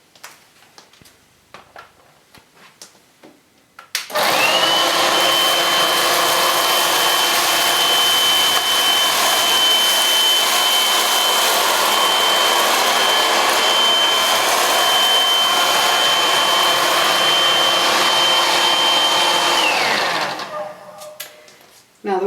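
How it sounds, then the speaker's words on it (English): A Shark 2-in-1 cordless stick vacuum cleaner runs on its bare floor setting with the brush at lower speed, a loud steady whirring drone that starts sharply after a few quiet seconds and runs for about fifteen seconds before winding down. "This time we're using the bare floor setting, which is a lower speed for the brush"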